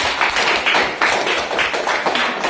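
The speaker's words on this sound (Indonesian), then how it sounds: "Nah, tepuk tangan." A group claps together in an Islamic study class after a hadith recitation, loud, near and steady with a rhythmic, unison pulse over a couple of seconds.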